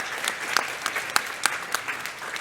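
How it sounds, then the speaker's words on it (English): An audience at a conference session applauds, with a brief burst of close, crisp clapping from a modest crowd and no one speaking. "So can I please just get us to give a round of applause for ACSI"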